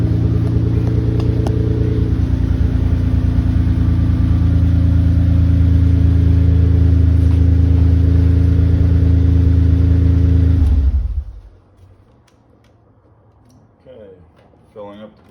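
A Mitsubishi 3000GT VR4 with a Tanabe exhaust runs in a garage, giving a loud, steady, throaty idle that holds for about eleven seconds, then cuts off abruptly and leaves near silence.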